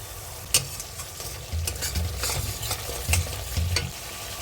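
Coriander leaves and tomato paste, with salt and turmeric, hit hot oil and spices in a pan, giving a close sizzle broken by repeated stirring scrapes, with no voice over it.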